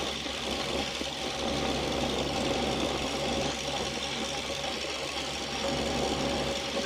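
Waukesha engine of an Oliver Super 77 tractor running steadily with a low, even mechanical drone and faint knocking rhythm, close and continuous throughout, with no voices over it.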